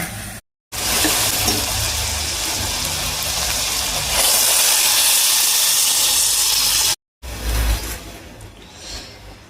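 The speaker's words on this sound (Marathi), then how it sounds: "मी इकडे गरम पाणी करून ठेवलेलं आहे ते घाला" Hot water poured into a sizzling spice tempering for a lentil curry, producing a loud, close burst of hissing steam that roars steadily for several seconds, broken by two short silent gaps.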